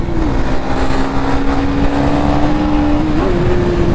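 Motorcycles racing along a road, one being a 390, their engines droning steadily and loud throughout with a sustained tone that rises slightly near the end, no talking.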